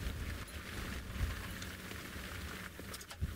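Heavy rain falls outdoors near water on safari, a dense, even hiss of drops on surfaces with occasional louder taps, steady and fairly faint throughout.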